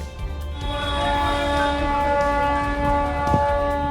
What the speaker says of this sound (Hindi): ट्रेन हॉर्न दे रही थी